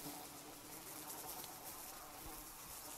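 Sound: swarm of flies buzzing in the video game Sons Of The Forest

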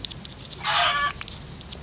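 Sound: chicken clucking in a video game

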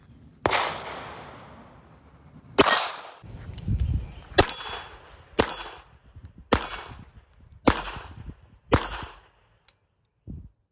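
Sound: Beretta 3032 Tomcat .32 pistol shots hitting steel plate

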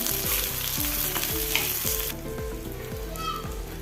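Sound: green chilies frying and being stirred in oil

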